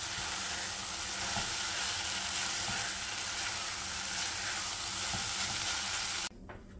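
Onion and tomato masala frying in hot mustard oil gives a loud, steady, close sizzle with light stirring scrapes, which stops abruptly near the end.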